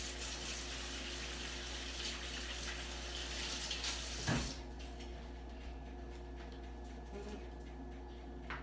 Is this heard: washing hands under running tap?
yes